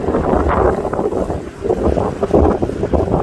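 Boat cruising along a canal in the northern Netherlands, a steady engine rumble and water wash under heavy wind buffeting on the microphone, continuous and loud throughout.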